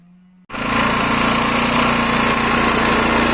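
A petrol generator starts up abruptly after a moment of near silence, then runs loudly and steadily with a constant close engine drone.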